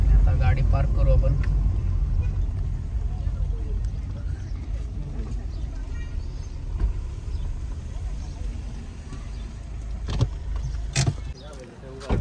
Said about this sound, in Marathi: आता गाडी पार्क करू आपण.